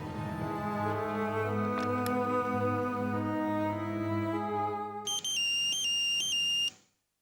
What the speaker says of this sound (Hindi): मीरा, बेटा देखो तुम्हारा फोन है।